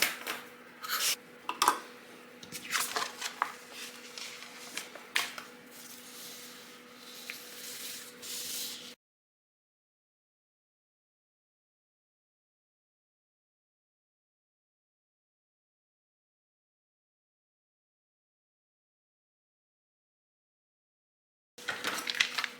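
Excess heat transfer vinyl is weeded by hand with a tool, giving soft intermittent scratching and peeling crackles up close, then a long silent gap before a brief return of the same scraping.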